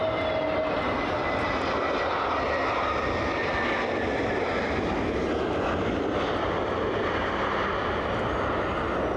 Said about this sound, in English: That'll be Iberia. No need to look that one up. A320 from Madrid.